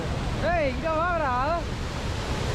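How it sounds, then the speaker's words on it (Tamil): Water spraying and roaring at Hogenakkal Falls, a steady dense rush of noise throughout, with a voice calling out briefly over it. "அந்த முட்டு பயங்கரமாக தண்ணி அப்படியே சாரம் அடிக்கும்."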